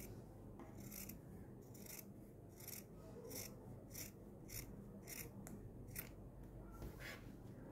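Sharp scissors snip through two fabric bra cups held together for a handmade bustier, giving a steady series of close, rasping cuts about every half second over a quiet room.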